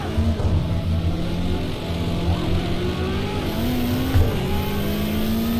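Ferrari Formula One race car engine in a racing video game, a steady high-revving drone whose pitch rises and dips with throttle and gear changes, with no talk.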